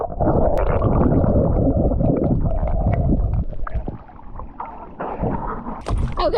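Kayak paddles dip and pull through the water of Lake Nighthorse near Durango, Colorado, giving close, rumbling splashes and gurgles with low buffeting noise, easing off briefly midway.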